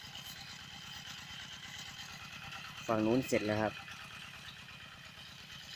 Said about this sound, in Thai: ปรับหน้าดินครับรถไถเดินตามหลังจากยกล่องแล้ว